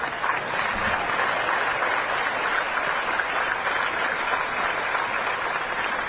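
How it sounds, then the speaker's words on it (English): Commencement audience applauding a presidential speech, a sustained, even wash of clapping from a large crowd that stays loud and steady for the whole stretch without any voices. "You can clap for that."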